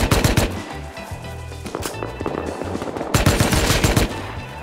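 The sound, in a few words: gunfire during a fight in the video game Rust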